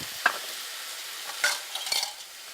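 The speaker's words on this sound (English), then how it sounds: "Stir it for 30 seconds" Ginger being stirred in a hot cooking pan, a few short scraping strokes over a soft hiss, close but fairly quiet and heard without speech.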